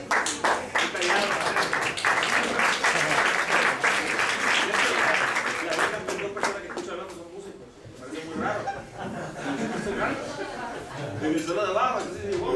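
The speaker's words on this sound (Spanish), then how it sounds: "Un aplauso a ustedes, porque han sido un público muy bueno para italiano." An audience at a jazz café breaks into loud, sustained clapping with some laughter and chatter mixed in, then the applause thins as a voice speaks, before the clapping swells again briefly.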